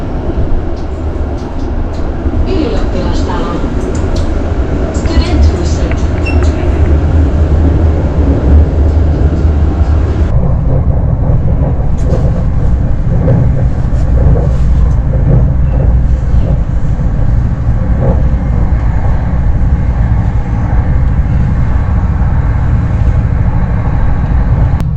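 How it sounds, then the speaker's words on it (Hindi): Continuous loud rumble and rattle of a train riding along in Finland, heard from inside the carriage, steady throughout with a shift in tone partway through and no speech. "मुश्किल से ट्रेन आज कैच की मैंने"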